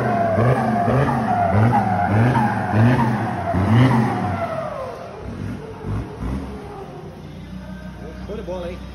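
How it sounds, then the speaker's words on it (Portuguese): A Ford Ranger 3.2 pickup fitted with a Dom Pipe full exhaust system, its engine note droning and rising in repeated waves, loud and close, then easing off toward the end while people talk over it. "Dom Pipe escapamento completo."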